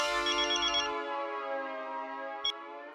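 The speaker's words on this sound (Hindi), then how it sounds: "अंजलि, मेरा एक फोन है जरूरी, मैं जरा बात करके आता हूँ" A phone ringtone plays in a Hindi comedy scene, a bright repeating electronic melody with sustained tones, fairly loud and alone with no talk, plus a brief click partway through.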